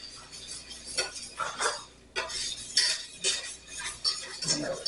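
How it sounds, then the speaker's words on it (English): A utensil scrapes and clinks against a pan while lobster thermidor cream sauce is stirred constantly, an irregular close-up series of metallic scrapes and taps with no talking. "You gotta constantly stir it."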